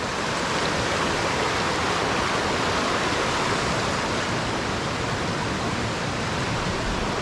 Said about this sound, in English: You can take a look at the creek here.